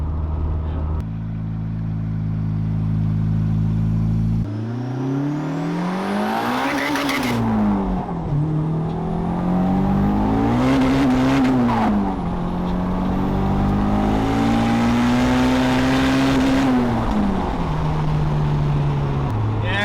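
A Toyota Starlet fitted with an automatic transmission runs loudly close by, its engine revving up and falling back through several gear changes and downshifts, with a steady drone between them and a voice talking over it.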